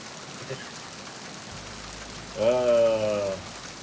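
Rain ambience from the Metal Gear Solid 2 video game hisses as a soft, even wash throughout. A brief voice sounds over it near the end.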